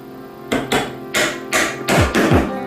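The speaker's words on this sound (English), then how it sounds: "that is the sound of mallet that strike on the chisel" Five or six sharp, loud wooden knocks in quick succession, a mallet striking a chisel while wood carving close by, each with a short ringing decay.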